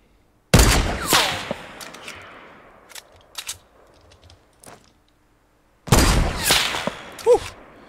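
Sniper rifle fire in Fortnite: two sharp, loud cracks several seconds apart, each with a long echoing tail, and fainter distant shots and clicks in between, no talking.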